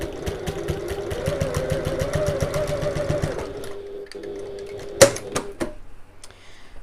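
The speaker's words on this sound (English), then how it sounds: "we're just going to stitch along the end using 1/4 inch seam allowance with our regular stitch length" A sewing machine stitches along the end of a two-tone strap at a 1/4 inch seam allowance and regular stitch length: about three seconds of rapid, even needle chatter, then it stops, leaving a few isolated clicks and knocks.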